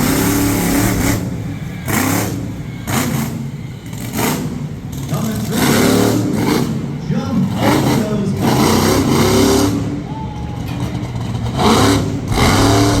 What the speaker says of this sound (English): Coming up first here in Monster Truck Freestyle is Cliff Powell, Virginia Giant